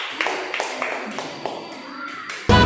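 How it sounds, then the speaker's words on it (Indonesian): Children in a school classroom clap a rhythmic patterned beat for a group, sharp distinct claps in a steady cadence, ending with a sudden louder burst of noise. "Tepuk tangan untuk kelompok 2."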